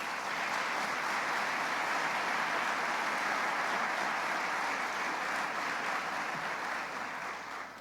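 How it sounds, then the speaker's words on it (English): Audience in the Buffalo City Hall council chambers applauds the council members with a broad, even wash of many hands clapping that holds steady and tapers slightly at the end. "How about a round of applause for the council members?"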